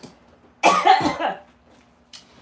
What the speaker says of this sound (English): He got me coughing.